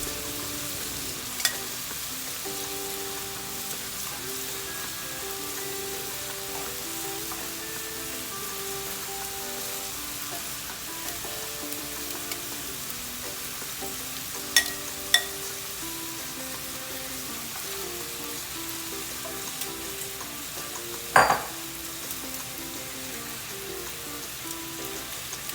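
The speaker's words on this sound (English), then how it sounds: "we are going to let that heat up, and then we're going to put it on low to simmer" Alfredo sauce seasoned with jerk spice heating in a pan, giving a soft, steady sizzle and bubbling close by, with a few faint clinks and a sharper tap near the end, and no talking.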